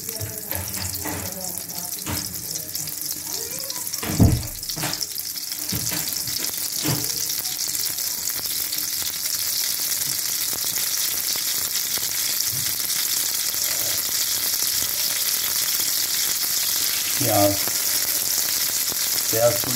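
Onions frying in butter for a breakfast dish, a steady close sizzle running throughout with occasional stirring clinks and scrapes.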